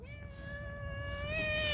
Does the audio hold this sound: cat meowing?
yes